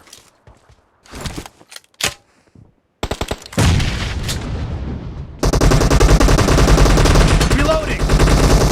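Shotgun gunfire in the mobile battle-royale game PUBG Mobile: scattered sharp shots at first, then dense, rapid volleys of blasts that grow louder and run continuously to the end.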